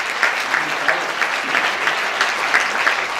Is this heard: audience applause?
yes